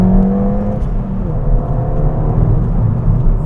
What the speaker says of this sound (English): we're on the road and the car is warm, so let's go into second and see what it sounds like